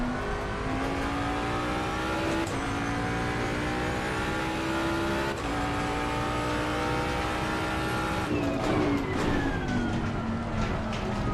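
A Lamborghini Huracan GT3 race car in Assetto Corsa Competizione accelerates around Monza, its engine note climbing loudly through the gears with a few quick upshift breaks, and nobody speaks.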